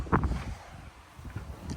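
Gusty wind buffets the microphone in low, uneven rumbling bursts, close and fairly steady throughout.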